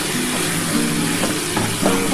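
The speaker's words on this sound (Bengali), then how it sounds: "এবার এটা একটুখানি ভালো করে নাড়াচাড়া করে নেব।" Chicken with tomato sauce and soy sauce being stirred in a pan, a continuous loud sizzle with scraping and shuffling strokes of a spatula, close and without any voices.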